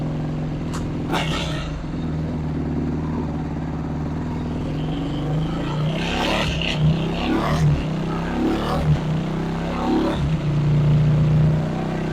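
Motocross dirt bike engine with an aftermarket exhaust, running loud and close with a steady drone and several sharp throttle blips and revs toward the middle and end.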